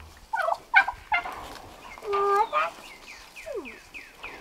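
A strutting male turkey blows air close by in short huffing bursts, mixed with clucking and tonal bird calls that repeat in quick sequence.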